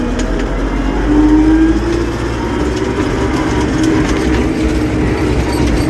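An MTZ 1025.2 tractor engine driving along in fourth, its highest gear, a steady, loud, close drone with a low rumble and a faint rising whine.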